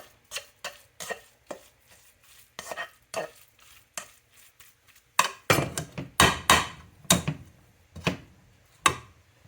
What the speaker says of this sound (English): You're just going to mix it in there so you can keep it so it's not lumpy.